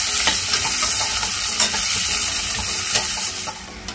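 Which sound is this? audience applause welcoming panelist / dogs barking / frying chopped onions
frying chopped onions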